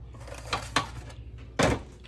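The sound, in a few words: oven door being opened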